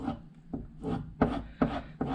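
A woodworking gouge is worked against a sharpening surface to polish its bevel, giving a steady series of rasping, rubbing strokes at a regular back-and-forth rhythm, close and clear with no voices.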